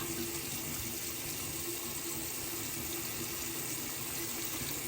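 Steady running tap water pours continuously into a sink at a moderate, even level while rinsing after shaving, with no voices.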